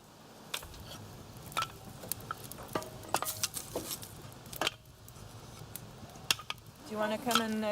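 Scissors snip at fish fins in a string of sharp, irregular clicks and cuts up close, with soft handling noises and a few quiet background sounds between the snips.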